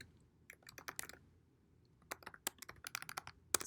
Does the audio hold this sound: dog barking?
no